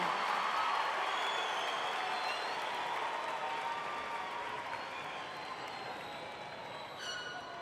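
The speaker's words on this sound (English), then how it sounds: "one final round of applause for our graduates" A large crowd applauds and cheers for graduates at a 2019 high school graduation ceremony, with steady dense clapping and scattered whoops filling a big space and slowly easing off.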